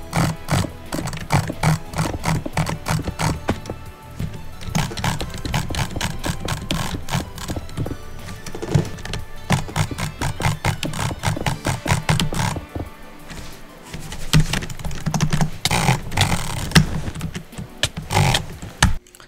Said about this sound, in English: So as you can tell, it's pretty good at drag clicking